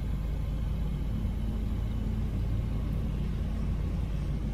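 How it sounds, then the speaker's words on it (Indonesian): A 2020 Land Rover Defender's air suspension raising the body, heard as a steady low rumbling hum with a faint engine idle beneath, constant and close for several seconds with no talking. "Airsusnya akan naik lagi."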